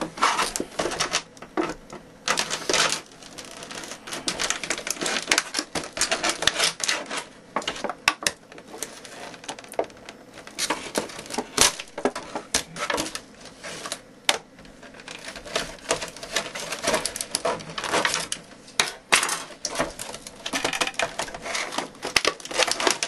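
Plastic packaging from a Turtle Beach X11 gaming headset crinkles and crackles steadily at close range for the whole stretch, with dense bursts of rustling and sharp crackle clusters throughout and no speech.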